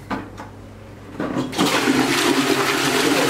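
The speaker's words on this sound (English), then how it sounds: "We have, unbelievably, a flushing toilet." A household toilet in a newly moved-into home in Melbourne flushes: a faint click and short trickle, then a loud, steady rushing of water that swells and holds to the end, with no talking.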